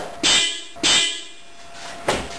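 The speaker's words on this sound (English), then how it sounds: "Today I'm going to upgrade the horn on my 1997 Toyota 4Runner" Stock horn on a 1997 third-generation Toyota 4Runner honks twice in short, loud blasts, then gives a third weaker toot, all close and clear.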